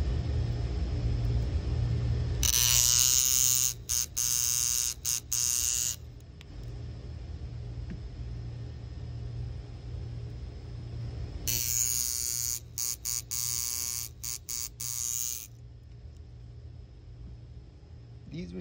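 A hatchback-style iron tattoo machine, built without a spring tensioner, buzzing loudly in two separate runs of a few seconds each, briefly stuttering on and off, with a low rumble in the background between them.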